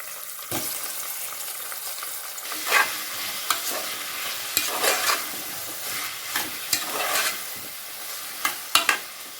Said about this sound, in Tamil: முருங்கைக்கீரையை இந்த எண்ணெயிலே நல்லா வணக்கிக்கலாம்